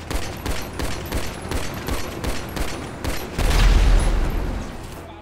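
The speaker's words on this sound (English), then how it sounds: "I'm actually gonna shoot you" Gunfire from GTA roleplay during a bank heist: rapid, evenly spaced shots ring out in a steady burst, then swell into a denser, louder volley near the end, with no talking.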